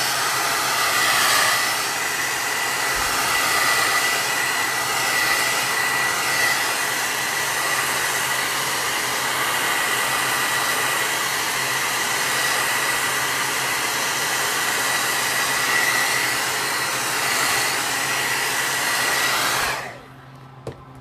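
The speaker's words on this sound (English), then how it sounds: "We're going to hit them with a hairdryer so you don't have to sit and wait here for hours." A hair dryer drying painted Christmas tree gnomes blows with a steady, loud whooshing roar for about twenty seconds, then cuts off abruptly.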